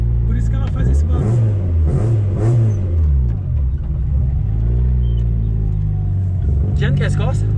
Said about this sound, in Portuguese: E aí eu tenho um volante aliviado, né? Então, por isso que ela faz esse barulho.